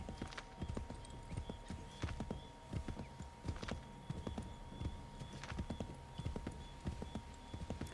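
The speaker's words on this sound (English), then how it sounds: "I don't know if like my horse galloping will alert." Hooves clip-clop in a fast, steady galloping rhythm, close and continuous, with a faint voice occasionally beneath, from a horse in the video game Assassin's Creed III.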